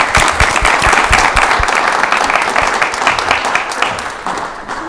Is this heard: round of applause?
yes